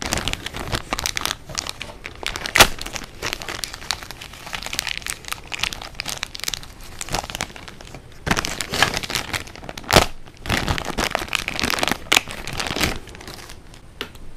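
Cardboard blind boxes for SHODO Kamen Rider toys being torn open, with dense, continuous crinkling and ripping of packaging close up, sharp tearing bursts scattered throughout and no talking.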